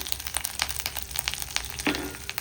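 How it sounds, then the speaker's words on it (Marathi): A phodni tempering sizzles in a pan as turmeric goes in, a steady crackling fry close by with a light stir and a brief scrape, no talking. "फोडणी झाली. यात थोडीसं हळद घालायची."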